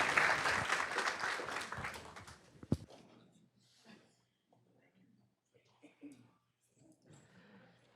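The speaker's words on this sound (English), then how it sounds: "Can we give him another round of applause, please?" A round of applause at a school board business meeting, dense clapping from the room that fades out after nearly three seconds, followed by quiet room sounds and scattered faint voices.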